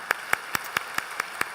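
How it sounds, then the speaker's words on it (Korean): A church congregation claps in praise during a worship service, a slow, steady series of seven evenly spaced sharp claps in unison over a faint room hiss, with no talking. "우리 하나님께 감사와 영광의 박수 올려드리겠습니다."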